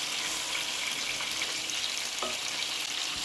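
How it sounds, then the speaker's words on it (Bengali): Tomatoes drop into sizzling ground spice masala for a yogurt chicken biryani, producing a loud, continuous hissing fry with faint stirring scrapes close up and no voices. "টমেটো দিয়ে দিচ্ছি"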